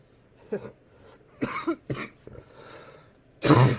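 A person coughs several times in short bursts with pauses between, close up, ending in a louder harsh cough.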